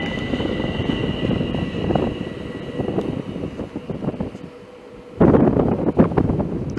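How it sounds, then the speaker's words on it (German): An ÖBB Talent electric multiple-unit train pulls out of Rosenbach station, a steady rumbling drone with rising whine and rattle, under wind buffeting on the microphone, growing louder toward the end. "So, jetzt fährt er ab."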